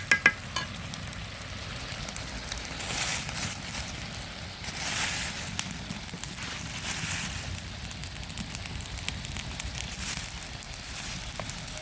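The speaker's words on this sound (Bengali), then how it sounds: "এখন আমি সুন্দর করে গুস্তটা কষায় নেব।" Chicken meat for a curry fries and is stirred in a pan, giving a steady, close sizzle with scraping and stirring noises throughout and no talking.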